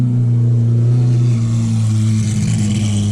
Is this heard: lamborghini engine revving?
yes